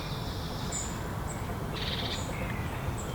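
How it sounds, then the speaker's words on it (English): Woodland birds singing at dawn: thin high chirps and short call phrases scattered over a steady low rumble of wind or background noise, fairly distant and faint. "all the birds are singing"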